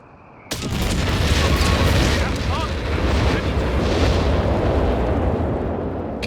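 A thunderous off-map artillery barrage in Company of Heroes 3 erupts suddenly into loud, sustained, overlapping explosions that roll on for several seconds.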